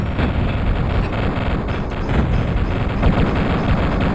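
Pistol gunfire in a Duke Nukem game blends into a dense wall of booming shots and explosions, loud and continuous with no talk.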